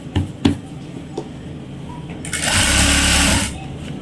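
An electric sewing machine stitching elastic onto the waistband of straight pants whirs in a short, steady burst after a few soft handling knocks, close by, with no talking.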